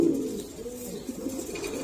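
Pigeons in a loft coo softly and nearby, a low rolling murmur running through the brief moment with no talk over it.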